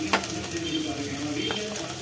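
Capsicum and onions sizzling in oil in a pan, a steady close frying hiss with a couple of brief stirring scrapes, no talking.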